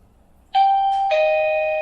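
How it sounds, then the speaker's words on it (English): A clear electronic doorbell chime from a Toucan battery-powered video doorbell plays two ringing tones, bright and sustained, close by with no talking. "Now if I ring the doorbell, here's the chime."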